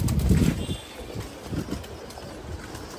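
Pigeons at a rooftop breeding loft on a farm in the early evening, with a brief loud burst of wing flapping near the start followed by softer scattered shuffling and faint cooing.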